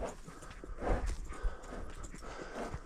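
Slow, uneven hoof clops of a young horse stepping carefully on ice, with a few louder thuds amid light background noise.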